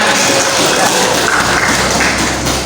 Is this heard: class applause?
yes